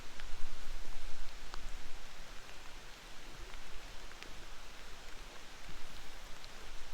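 Rain falling at a campsite, a soft, continuous patter with scattered sharper drops and a faint hiss, steady and fairly quiet throughout.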